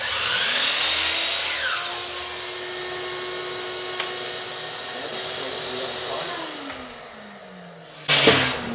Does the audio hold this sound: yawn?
no